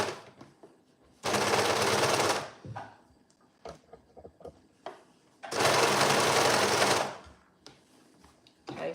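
A sewing machine stitches a side seam on a shirt dress in two sustained, even runs of rapid mechanical whirring, each several seconds long. Quiet handling clicks and pauses fall between the runs.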